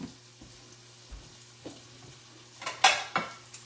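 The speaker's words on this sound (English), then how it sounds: "Let's put it on a plate, shall we?" Food being served onto a plate with utensils in a home kitchen: soft scrapes and light clinks, then a couple of louder metallic scoops and clatters near the end, close and fairly quiet.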